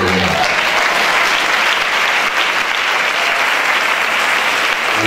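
A church congregation applauds loudly and steadily, a dense sustained wash of clapping from many hands filling the room.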